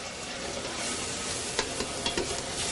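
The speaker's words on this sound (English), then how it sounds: "you give that a little stir" A spoon stirs a simmering seafood stew seasoned with dried thyme, basil and sage, giving soft scrapes and a few sharper knocks against the pot over a constant bubbling sizzle heard up close.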